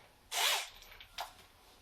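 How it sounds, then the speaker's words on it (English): A handheld power drill whirs during a small do-it-yourself build: one longer burst of spinning, then a short second spurt after a pause, fairly quiet and close with no talk. "Keep on turning the drill the wrong way."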